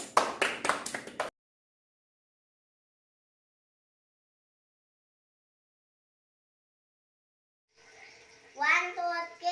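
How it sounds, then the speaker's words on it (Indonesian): Children clapping during a church service: a short run of sharp, rhythmic claps up front, then a long silence before a voice speaks near the end. "Kasih tepuk tangan dulu buat Tuhan Yesus"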